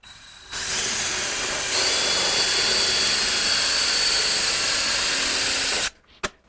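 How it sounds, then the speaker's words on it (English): Small drill bit boring into metal for a seat mount, a loud steady high-pitched whir running for about five seconds, then stopping with a brief clunk at the end. "Then I'm going to drill that with a very small drill."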